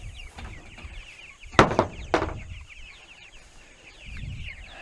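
Chickens on a farm cluck and squawk nearby in a few short, sharp bursts over faint background chatter among the flock.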